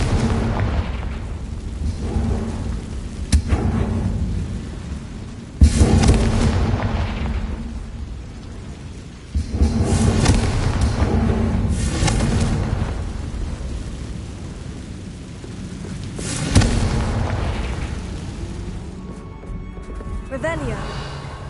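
Several loud blasting-spell explosions in a Harry Potter video game, sharp booming bursts recurring every few seconds over a rumbling game soundscape, with a voice speaking between them.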